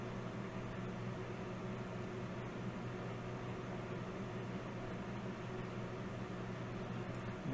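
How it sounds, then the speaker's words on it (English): A rotary tool with a grinding pin wearing back a damaged circuit board track, a steady, even high-pitched whine and hiss held without a break, close and fairly quiet, no talking. "grabbing my grinding pin, and we're going to grind back that"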